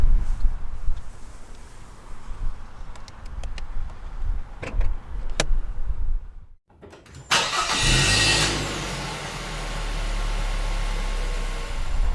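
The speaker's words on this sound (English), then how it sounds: "check out the beast of an engine under the hood" A 2017 Infiniti Q60 Red Sport 400's 3.0-litre twin-turbo V6 cranks and fires up, then settles into a steady, loud idle after some quieter rustling and clicks.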